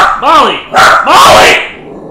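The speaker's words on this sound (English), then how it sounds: "my dogs won't shut up" Several dogs bark in loud, close bursts, three clustered volleys of sharp barks and yips in quick succession, fading out at the end.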